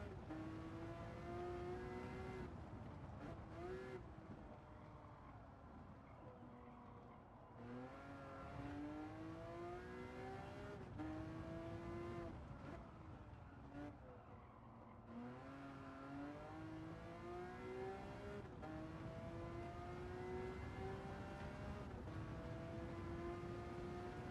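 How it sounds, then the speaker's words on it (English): Ferrari racing engine in the Gran Turismo 7 video game, a sustained high-pitched wail that repeatedly climbs through the revs and drops briefly at each upshift, continuous and alone with no voices. "It's a beautiful engine sound, though. I'll give Ferrari that"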